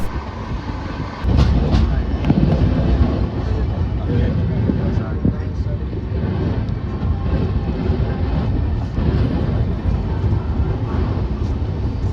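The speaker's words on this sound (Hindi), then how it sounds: "यहाँ से अब हमारी ट्रेन एक्सट्रीम लेफ्ट मार के मथुरा की तरफ चली जाएगी" Swaraj Express passenger train in India running on tracks near Mathura, a steady loud rumble with rattling carriages throughout, beginning after a brief quieter start.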